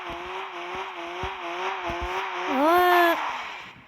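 Tires squeal in a rising, bending whine as a car drifts through a turn in a car parking video game, layered over a steady engine drone. Faint, intermittent talk runs beneath it.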